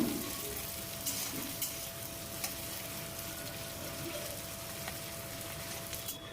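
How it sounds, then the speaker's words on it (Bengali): Chopped onions frying in oil in a pan over medium-low flame, a soft, steady sizzle with a few faint stirring clicks, quiet and close, with no voices. "এখন মিডিয়াম টু লো ফ্লেমে পেঁয়াজটাকে আমরা লাল করে ভেজে নেব।"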